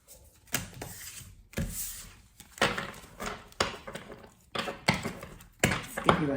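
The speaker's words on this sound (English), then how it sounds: "I'm going to shuffle the other way just to mix them up a little bit" A deck of cards is shuffled by hand in a quiet room, giving a run of soft riffling and slapping bursts, close and fairly faint, with a few pauses between passes.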